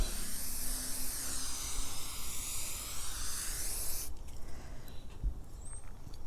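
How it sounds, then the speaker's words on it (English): Scotchgard protector sprays from an aerosol can onto a Louis Vuitton vachetta leather bag strap, a loud continuous close-up hiss that stops abruptly, leaving faint handling noise. "in the meantime I'm going to spray the strap with Scotch Guard, and I'll spray it on both sides"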